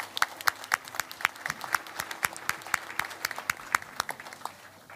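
An audience at a research and policy-making panel discussion applauds a panelist with brisk, scattered clapping from a modest crowd, fairly even for about five seconds before thinning slightly at the end.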